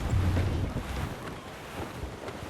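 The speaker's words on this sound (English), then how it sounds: "I don't like that wind, sir." Wind blows at sea aboard a sailing ship in the video game Assassin's Creed Rogue, a steady, loud rush with microphone-like buffeting and the wash of waves beneath.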